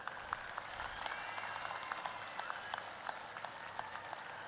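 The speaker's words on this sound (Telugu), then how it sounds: "ఒక్కసారి చెవులు పగేటట్టు చప్పట్లు కొట్టండి బ్రదర్" Dense crowd applause at a Mohan Babu University annual day celebration, a steady distant patter of many hands clapping at a fairly quiet level.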